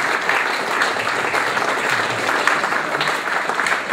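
Steady, full applause from an audience at a club awards night honouring a helper, with continuous clapping at an even level throughout and no speech over it.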